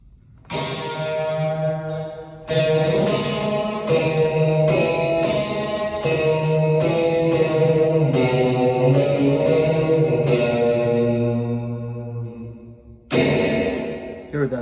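Electric guitar played through an effects pedal, chords ringing out with a thick, slightly distorted tone and a long reverberant tail fading after each strum.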